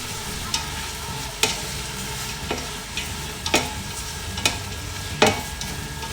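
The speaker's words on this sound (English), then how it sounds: "Saute well until golden brown." Sliced onion sauteing until golden brown in a pan for chicken biryani, a steady soft sizzle with intermittent sharp scrapes of a stirring spoon, close, no talk.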